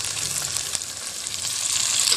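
Okra (bhindi) browning in a pan gives a close, steady hiss and sizzle of frying oil with a faint crackle, and no voices.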